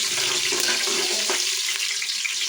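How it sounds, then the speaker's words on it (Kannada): Green chillies frying in hot oil for chicken biriyani, a steady close hiss of sizzling with faint crackle, no voices. "ಸೊ ಇವಾಗ ಮೆಣಸಿಕಾಯಿ ಹಾಕ್ತಾ ಇದ್ದೀವಿ"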